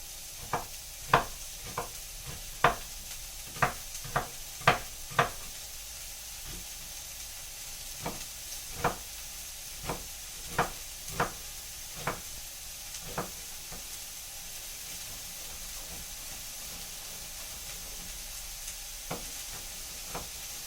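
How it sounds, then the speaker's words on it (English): Onion frying in a pan for chicken marsala, a steady soft sizzle with repeated sharp crackles and pops spaced irregularly, quiet and close with no talking. "Just cooking the onion"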